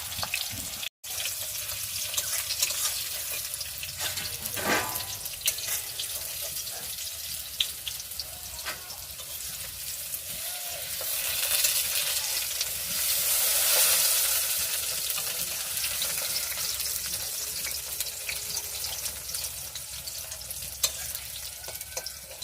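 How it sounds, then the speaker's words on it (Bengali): Pointed gourd (potol) frying in oil in a home kitchen, a steady sizzle running throughout with occasional stirring clinks and a brief pause near the start. "ভাজা হয়ে এসেছে, আর একটু অল্প করে ভাজবো"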